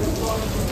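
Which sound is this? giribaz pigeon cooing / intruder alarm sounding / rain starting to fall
rain starting to fall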